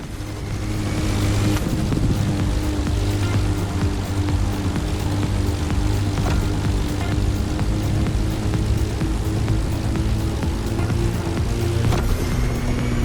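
Plane racing against an AGP race car in The Crew Motorfest, with a steady, loud drone of engine and wind rushing throughout and no talk.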